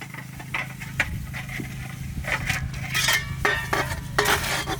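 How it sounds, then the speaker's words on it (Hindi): Dishes, pots and pans are washed by hand, with repeated close clinks, clatters and scraping of metal utensils over a constant low hum. "कन्या बर्तन माजे छा"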